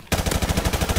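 Rapid automatic fire from an M4 rifle in a first-person shooter video game, a steady run of close, loud shots with an even rhythm after a brief quiet start.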